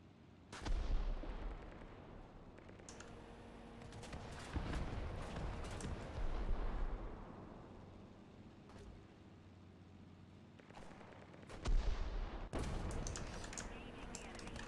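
Booming cannon shots from a game burst out several times at irregular intervals, loud and sharp, with quieter rumbling and clatter between them.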